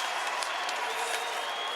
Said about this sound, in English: the crowd applauds that effort